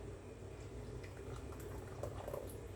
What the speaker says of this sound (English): You want to pour.